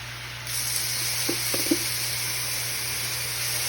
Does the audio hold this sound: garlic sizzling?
yes